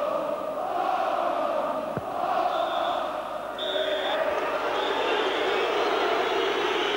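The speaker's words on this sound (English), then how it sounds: "Boos" A Liverpool football crowd at Anfield boos as the team goes out of the Cup Winners' Cup against Spartak Moscow; a broad, sustained roar of jeers fills the stadium, with a commentator speaking over it.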